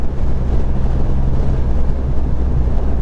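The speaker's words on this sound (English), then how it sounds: "I can hear some wind noise on there, but it's nothing that you get irritated on there" Steady wind roar buffeting a Ruroc Atlas 4.0 motorcycle helmet while riding a Triumph Rocket 3 R Black Limited Edition, a continuous low rumble filling the whole stretch at constant loudness with no talk.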